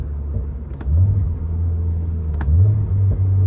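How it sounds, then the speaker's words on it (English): Toyota GR86 engine blipping through rev-matched downshifts, loud and close, with two sharp throttle surges rising over a steady low exhaust drone. "We can get some rev matches here."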